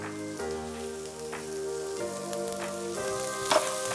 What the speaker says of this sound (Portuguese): Começamos por caramelizar a cebola, dentes de alho, umas folhas de alecrim e tomilho.